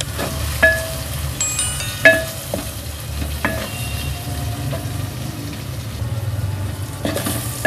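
Sizzling tomato masala in a pan being stirred with salt and chili, a steady close frying hiss broken by sharp scraping and clinking of the spoon against the pan every second or so.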